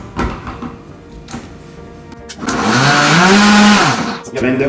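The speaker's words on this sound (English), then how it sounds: "Blender full speed." A blender making a green spirulina smoothie roars loudly at full speed, its motor whining steadily for a couple of seconds after some clattering and handling noises.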